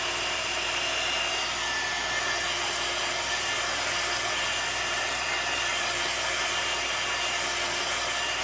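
A hair dryer runs at a constant, close, loud whoosh, blowing on wet paint on a wooden Halloween sign, with an unbroken rushing tone and no talking.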